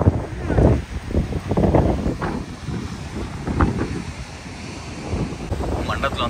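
Strong seaside wind at Kanyakumari buffets the microphone with loud, continuous rumbling gusts over a background of surf, and a voice is faintly audible beneath the roar.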